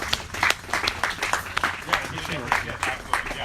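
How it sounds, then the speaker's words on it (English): Applause from the audience at a town hall meeting in Modesto, California: a busy, sustained patter of many hands clapping at moderate loudness, with speech faintly mixed in. "One more round of applause for Vicki and our wonderful host"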